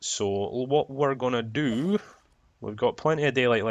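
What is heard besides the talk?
No distinct noise like a dog, phone or traffic.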